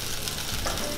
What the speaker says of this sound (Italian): un po' di olio e aglio, appena si soffrigge un po'